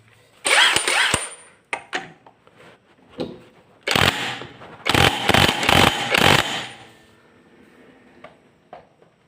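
Rear brake parts on a Honda Beat scooter being tightened, heard as loud rattling bursts of a power tool in short repeated runs separated by pauses and small clanks, with no talking.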